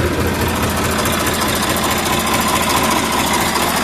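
A 1999-model tractor engine runs at a steady idle nearby, with an even, loud chugging throb and rattling vibration throughout and no voices over it.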